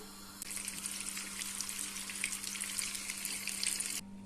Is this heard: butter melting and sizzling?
yes